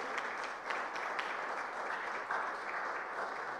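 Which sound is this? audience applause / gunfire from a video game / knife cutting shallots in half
audience applause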